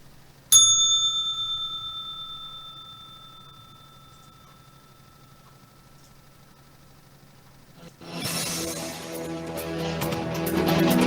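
A single bright bell strikes once, loud and close, then rings out with a long fading tone for several seconds, before a burst of broadband noise takes over near the end.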